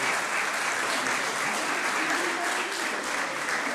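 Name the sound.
audience applause for award recipients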